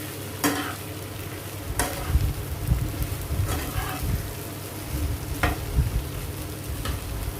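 Soya chunk mixture fries in a pan and is stirred, giving a steady soft sizzle. Sharp scraping strokes of the spoon cut through roughly every one to two seconds.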